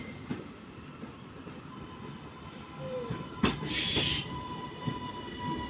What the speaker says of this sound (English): we're going to have a Northern Service coming in